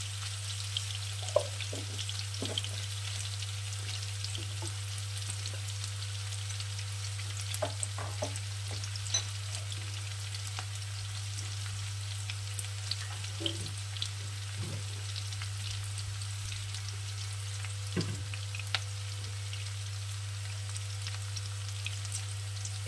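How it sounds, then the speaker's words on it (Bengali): Chopped onion fries in hot oil in a pan for a Bengali aar fish curry, a steady soft sizzle with occasional stirring clicks and scrapes, close and continuous without any talk. "পেঁয়াজটা একটু লাল করে ভাজা হবে।"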